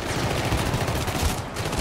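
Steady, dense gunfire from the co-op shooter Syndicate, a continuous rattling barrage at moderate level with no pauses, no voices over it.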